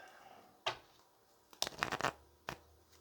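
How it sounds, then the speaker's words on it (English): Cards being shuffled nearby: quiet riffling with a few sharp snaps and flutters, no talking. "the Ten of Cups was under the deck before I started shuffling right now"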